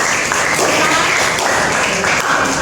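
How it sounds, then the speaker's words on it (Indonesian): Students in a classroom give steady, full applause for a classmate and their group, a continuous wash of many hands clapping together without a break. "terima kasih tepuk tangan untuk dia dan kelompoknya."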